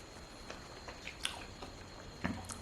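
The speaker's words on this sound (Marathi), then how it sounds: "आंबे खाऊन घेतो" Someone eats a sweet, juicy ripe mango at a village home, with soft wet bites and chewing squelches coming at scattered moments, close and quiet, over a faint night-time background hum.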